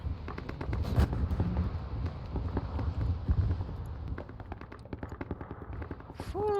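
Gunfire and shell impacts in a video game battle, rapid bursts of shots and sharp cracks mixed with heavier thuds, fairly close and continuous throughout.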